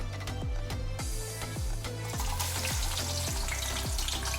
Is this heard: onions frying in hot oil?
yes